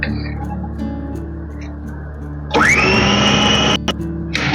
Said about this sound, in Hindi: अब हम चॉपर के जार को बंद करेंगे और हाई स्पीड पर चला लेंगे 3 से 4 मिनट के लिए